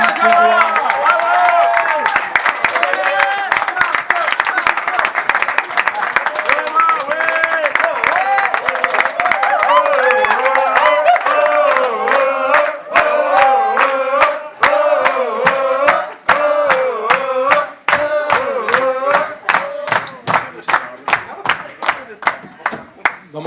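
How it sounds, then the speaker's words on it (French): An audience at a Christmas party applauds Jean-Emmanuel with loud, sustained clapping, while music with singing plays throughout. Toward the end the applause breaks into rhythmic, evenly spaced claps. "J'aimerais qu'on puisse applaudir bien fort Jean-Emmanuel."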